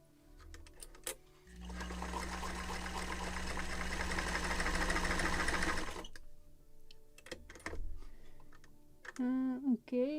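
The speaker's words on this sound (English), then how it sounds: "just cut off if my sewing machine is working fine" A home sewing machine stitches a test strip of sail cloth for a 1776 gunboat Philadelphia model, running in one steady continuous burst of several seconds, framed by short clicks and handling noises and a brief voice at the end.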